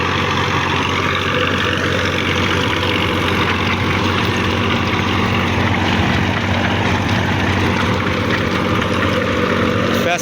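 A Massey Ferguson 240 tractor drives a 48-blade rotavator while preparing a field. The engine gives a loud, constant, close drone with a dense mechanical churn that keeps a steady level for the whole stretch.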